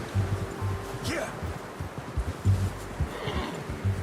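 Horse in Red Dead Redemption 2 giving a short, clear whinny near the start, with light hoof clops and rustling ambience around it.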